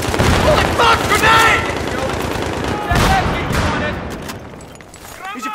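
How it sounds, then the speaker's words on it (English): A grenade detonates in a Battlefield 3 Conquest match, one of several heavy booms amid rapid gunfire and battle noise. The sound is loud and close, with shouted voices mixed in. "grenade!"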